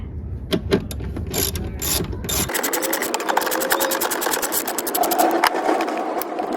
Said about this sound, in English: You got two size 10mm bolts. Removing those will get this fuse box out the way